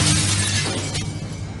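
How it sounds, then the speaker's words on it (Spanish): Glass shatters loudly in a single crashing burst with a dense spray of breaking fragments, then a brief scattered tail of tinkling pieces, with no voices present. "Se oía ruido de cristales rotos."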